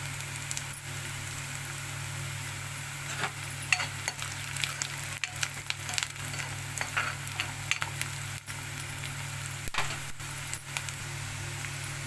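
Onions and curry leaves fry in a pan for a Telugu-style fish curry, giving a steady, close sizzle with occasional scrapes and taps of stirring throughout, and no talking.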